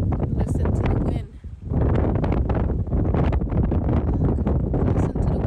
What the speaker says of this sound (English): Listen to the wind 7 in the morning